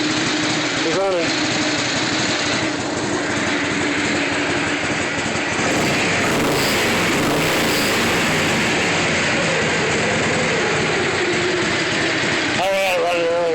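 A Harley-Davidson motorcycle with a Blues Harp 5.9 engine idles steadily and loud for the whole stretch, a constant close rumble with a brief rise in the middle, while someone talks over it.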